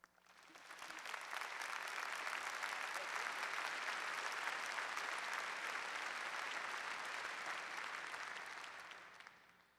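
Audience applause welcoming Ed Taylor, a College of Education faculty member, at the 2009 University of Washington freshman convocation: dense, steady clapping from a large crowd that starts abruptly, holds loud throughout and tapers slightly at the end.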